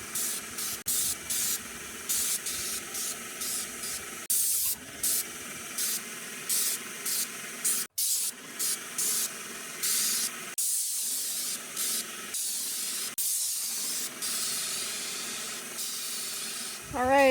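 Bursts of paint spray hiss on and off in repeated pulses while painting a house exterior, each lasting a second or two, close and steady, with short quiet gaps between them.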